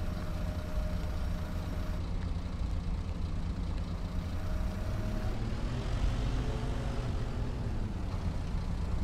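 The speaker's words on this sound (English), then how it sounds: "I like the sound of the machine from inside the cab." A mining machine in Farming Simulator 22, heard from inside the cab, with a constant low engine drone and muffled rumble holding steady throughout, with no talking.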